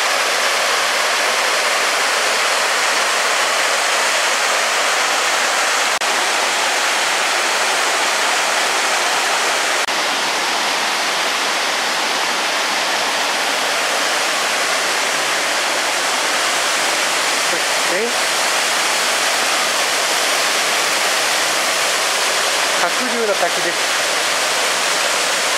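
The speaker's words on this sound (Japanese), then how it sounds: "小龍の滝です。" Shoryu waterfall on a mountain hike in Yamaguchi roars as a constant, dense wash of falling water, loud and close, with a couple of faint brief squeaks near the end.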